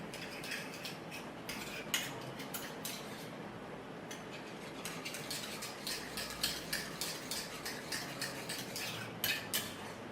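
A spoon stirs tamarind juice and aloe vera gel together in a bowl, making quick, repeated light clinks and scrapes against the sides, close and fairly quiet, with no voices.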